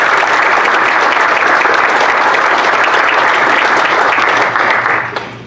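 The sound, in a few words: audience applause for the boys at a city council meeting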